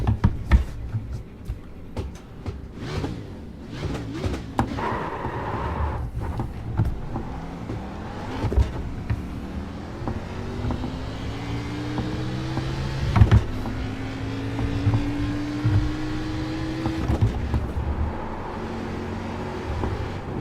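Race car on an out lap at Pocono, engine note rising and falling through gear changes with a whining drivetrain, heard from inside the car at moderate level, steady and continuous.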